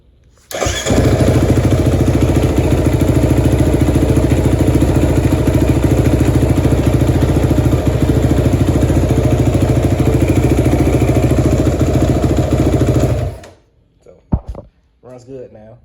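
A rebuilt Kawasaki KFX450R ATV engine fires up and runs close by, a loud, steady, rapid thumping that holds for about thirteen seconds before cutting off, followed by a few quiet clicks.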